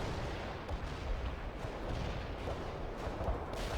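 An artillery barrage in the video game World in Conflict rumbles as a dense, continuous roar of distant shell blasts and booms, with a few heavier thuds rising out of the low wash.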